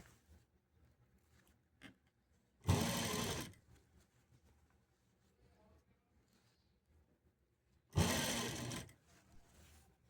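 A sewing machine stitches piping around the round neckline of a blouse in two loud bursts of a second or so each, separated by quieter handling sounds.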